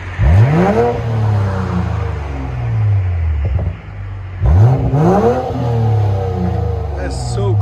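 BMW X5 M40i with a 3.0L engine and modified exhaust revs twice, each blip rising sharply then falling away with a crackle, close and loud, with people talking over it.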